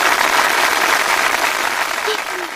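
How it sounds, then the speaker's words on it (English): Recorded applause from a crowd of about 300 people, a dense steady wash of clapping that holds loud throughout and eases slightly near the end. "That was 300 people applause."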